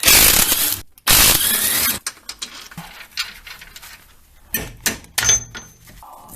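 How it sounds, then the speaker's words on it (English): Ratcheting wrench clicks and metallic clanks from loosening a nut on a car's lower suspension arm bushing, in bursts of close, loud mechanical rattling with pauses between. "I just got the nut on this bushing loose"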